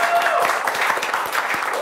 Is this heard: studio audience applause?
yes